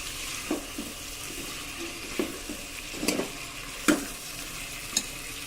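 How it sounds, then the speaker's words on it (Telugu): Chopped vegetables and pieces of a large brinjal fry in oil in a pan for tamarind dal, making a low steady sizzle with soft spoon scrapes and a few sharper knocks against the pan, with no one talking. "వేసుకున్న వెజిటేబుల్స్ అన్నీ ఆయిల్లో చక్కగా ఫ్రై అయ్యాయి"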